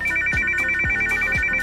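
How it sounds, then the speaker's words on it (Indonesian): A telephone rings with a repeated electronic tone, three short bursts at a steady rhythm, close and clear with no voices. "lalu tiba-tiba telepon berdering."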